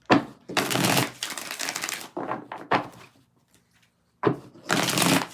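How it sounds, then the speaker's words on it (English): A deck of tarot cards is shuffled several times in a row. The riffling bursts are crisp, close and loud, with one brief pause before the shuffling resumes. "Let's get 5 shuffles"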